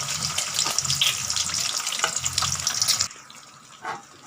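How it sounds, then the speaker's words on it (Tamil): Two eggs cracked into well-heated oil in a kadai for corn fried rice hiss in a loud, steady sizzle that cuts off abruptly after about three seconds, leaving a faint, quiet tail. "எண்ணெய் வந்து நல்லா ஹீட் ஆனதும் ஒரு 2 முட்டை வந்து உடச்சி"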